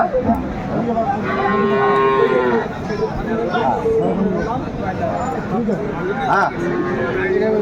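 Dairy cows and calves of improved breeds moo loudly at the Aftabganj cattle market in Dinajpur, with long drawn-out lows close by over a crowd's background chatter and people talking.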